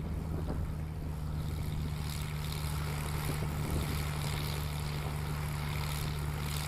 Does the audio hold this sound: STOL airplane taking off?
yes